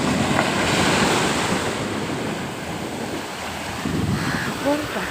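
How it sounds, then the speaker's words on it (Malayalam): Ocean waves wash onto a beach in a steady broadband roar, with wind buffeting the microphone throughout and a fresh surge of surf building near the end. "തിരമാല മാത്രമേ വരുന്നുള്ളൂ"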